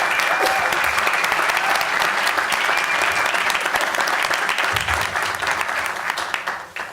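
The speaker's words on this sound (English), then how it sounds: "I want to give a round of applause to the staff and volunteers who made tonight's event possible." Dense, continuous applause from a large audience at a political speaking event fills the room for nearly seven seconds, thanking staff and volunteers, loud and sustained before easing slightly at the end.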